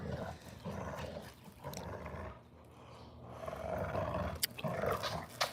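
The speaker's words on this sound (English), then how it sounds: "the big dogs out here playing, having fun as usual, doing their big dog things" Big dogs playing outdoors, with rough growls and roaring play noises rising and falling in uneven bursts, moderately close but fairly quiet overall.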